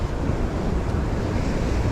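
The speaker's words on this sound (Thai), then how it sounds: "คลื่นค่อนข้างแรงครับ" Rough sea pounding a rocky shore where anglers fish from the rocks, a loud continuous roar of surf with wind buffeting the microphone, no talking.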